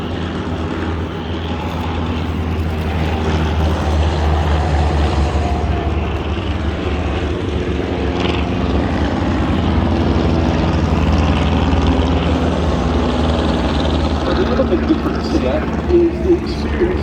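Several replica World War 1 fighter planes with modern engines roar overhead in a dogfighting display at Duxford, a loud, continuous drone of propeller engines rising and falling as they pass, with faint talk underneath.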